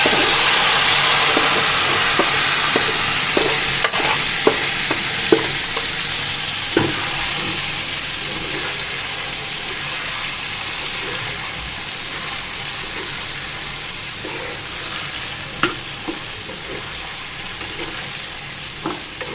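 Taro greens frying in hot oil in a pan, a steady loud sizzle with occasional sharp clicks and scrapes of stirring, continuing without talk throughout.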